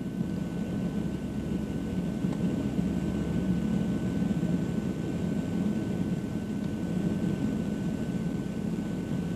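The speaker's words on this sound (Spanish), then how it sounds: "Aviones Hércules C-130 de la Fuerza Aérea, de transporte de la aviación naval y aviones comerciales de aerolíneas argentinas establecían un puente aéreo" A Hercules C-130 military transport plane produces a constant, heavy low propeller drone with broadband roar that stays steady and even for the whole stretch, with no speech over it.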